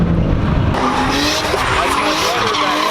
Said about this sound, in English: He's trying to burn up his tires.